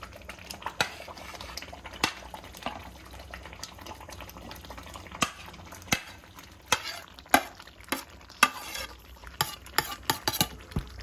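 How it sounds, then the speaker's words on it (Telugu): A spoon stirs cut boiled egg pieces into a cooked masala curry in a pan, with a steady low sizzle and irregular sharp clinks and scrapes against the pot, close and clear with no talking. "ఇప్పుడు ఈ ఎగ్స్ వేసేసుకున్నాం, కట్ చేసుకున్న పీసెస్ అన్నీ అందులో వేసేస్తాం"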